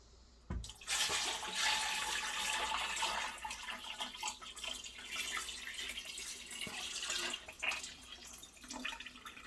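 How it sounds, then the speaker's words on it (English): Homemade strawberry wine poured straight from a pot, a steady splashing liquid stream running loud and close for several seconds, tapering with a few final trickles. "pouring it directly from the pot."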